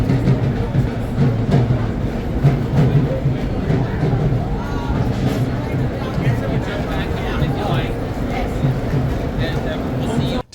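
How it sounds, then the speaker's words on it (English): Private chartered passenger train running from New Delhi to Agra, a steady low rumble with faint rhythmic wheel clatter throughout, mixed with background crowd murmur and occasional voices. "a private train from New Delhi to Agra"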